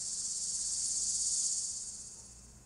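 Cicadas buzz in a continuous, high, shrill drone that holds steady and then fades slightly toward the end, alone with no other sounds.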